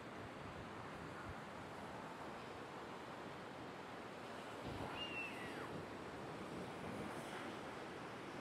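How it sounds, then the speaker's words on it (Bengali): Ocean surf rolling in steadily at Tajpur beach, a broad continuous wash of breaking waves with wind noise buffeting the microphone, no voices. "ঢেউ মোটামুটি ভালোই আছে।"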